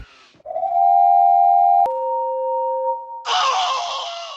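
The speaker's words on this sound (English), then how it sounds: "all of the engines were blowing their whistles loudly" Loud steam engine whistles from Thomas and Friends blow one after another, a long steady tone shifting to a higher pitch, then a harsh hissing blast.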